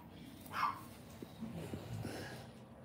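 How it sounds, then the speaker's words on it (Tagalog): A newborn puppy whimpers faintly right after birth, giving a short high yelp followed by soft breathy whines and small squeaks, heard quietly beside low indistinct household noise. "Ito na ang isang tuta."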